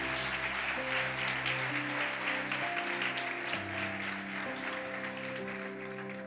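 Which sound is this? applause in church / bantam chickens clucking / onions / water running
applause in church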